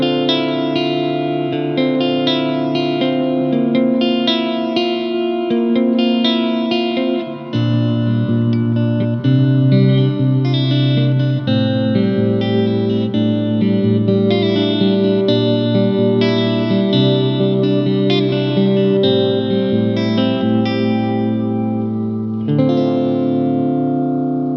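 Electric guitar played through a Nux Mighty Space amp set to a Super Reverb model with cabinet, red compressor on, analog delay and reverb, sustained chords ringing with lush wet echo tails, loud and continuous with no voice.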